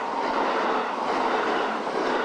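A Kintetsu Vista Car double-decker express train rolls past close by, a steady broadband rumble and rush of wheels on rail holding level for the whole stretch without a break.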